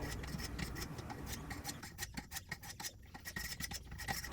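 Schrade LB7 folding knife blade drawn across an 800 grit sharpening stone, a quiet rhythmic run of gritty scraping strokes, close and alone.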